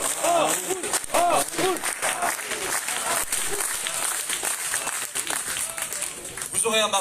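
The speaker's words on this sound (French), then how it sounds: "Acclamons le professeur Raoult et acclamons les médecins qui soignent." Audience at a political party congress in France bursts into loud, sustained applause and cheering, the clapping dense and continuous throughout with crowd voices mixed in.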